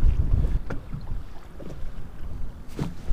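Wind gusts buffet the microphone on an open boat on the water during early spring crappie fishing, a steady rough rumble with occasional knocks and splashes close by.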